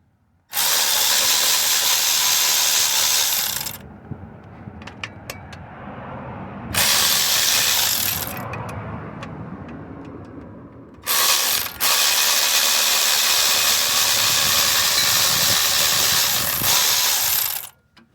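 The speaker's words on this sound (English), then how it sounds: "I'm gonna use my cordless ratchet." A cordless ratchet spins a 12-point 10mm bolt out of the front differential on a Honda CR-V, in three loud buzzing bursts of several seconds each, separated by quieter gaps with faint clicks.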